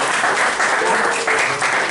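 A room full of people at a church retreat claps loudly and continuously, a thick wash of applause that briefly dips before swelling again, with no talk over it.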